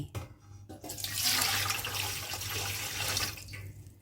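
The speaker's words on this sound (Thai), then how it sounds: "เราจะใช้น้ำหนึ่งลิตรนะคะเทลงหม้อเลย" One litre of water is poured into a cooking pot while grape wine is being made: a couple of brief splashes, then a loud, steady gushing pour that fills the pot and tapers off at the end.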